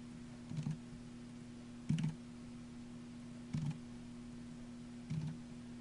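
Four short, separate bursts of computer keyboard key clicks at steady intervals, typing colour values for a poster design, close and fairly quiet over a constant electrical hum.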